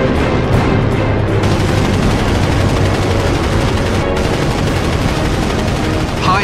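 Aircraft cannon fire from a Vietnam-era air-to-air combat, high explosive rounds hammering a MiG, a loud dense continuous roar of rapid bursts filling the whole stretch.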